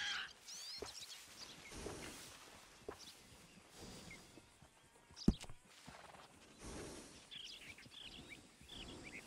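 Horse hooves clip-clopping at a walk in Red Dead Redemption 2, faint and irregular, with birds calling in the background and a sharp click partway through.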